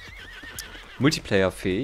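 A horse in the video game Trials Fusion neighs in a loud, shaky whinny, heard over a man's speech.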